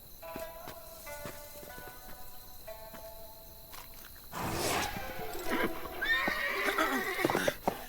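A horse whinnies loudly and close by, a long shrill neigh over faint background sounds, followed by snorting and restless shuffling with a few hoof clops.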